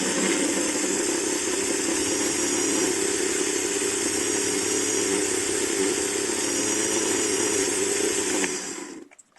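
A Scalextric slot car motor on a digital track whines at a steady high pitch, a continuous buzzing hum held for several seconds before abruptly cutting out.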